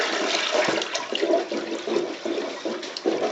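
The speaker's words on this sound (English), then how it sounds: "So I'm going to flush it now, and we'll give it a plunge" A clogged toilet is flushed before plunging, a close, sustained rush and gurgle of water swirling through the bowl that keeps going for several seconds without any speech.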